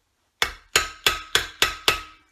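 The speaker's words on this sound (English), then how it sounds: "And you can start hammering in the middle." A hammer striking a metal sheet being twisted for jewellery, six sharp ringing blows at an even, unhurried pace, close and clear, each ring fading before the next.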